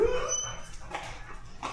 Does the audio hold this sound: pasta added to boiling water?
no